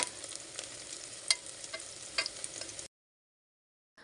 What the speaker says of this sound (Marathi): कांद्याला आपण परतून घेऊया व्यवस्थित